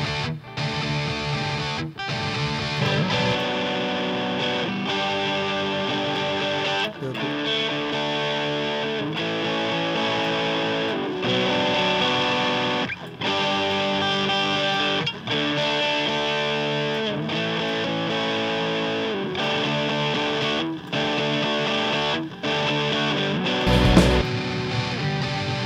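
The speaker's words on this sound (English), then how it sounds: "Distortion is pretty heavy on the real amp." Heavily distorted electric guitar through a Marshall DSL 20 all-valve amplifier, played continuously with dense sustained chords and brief pauses, loud and close, with no talking.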